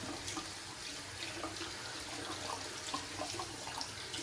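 A shaving brush is rinsed under a running tap, giving a steady, close splashing hiss of water that holds evenly for the whole stretch with no talking.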